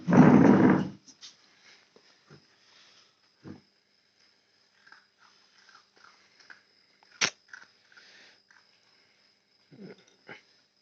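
A dog being fed biscuits near a shop, heard in short soft sniffs, snuffles and chewing sounds scattered across a quiet stretch after a brief loud burst at the start.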